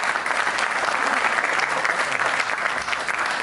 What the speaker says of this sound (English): please warm round of applause for Tim Evans